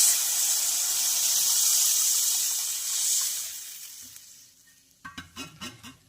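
Curd thinned with water hits softened vegetables in a hot pan for upma and sends up a loud, bright sizzling hiss. The hiss fades over a few seconds and gives way to a few close stirring clicks.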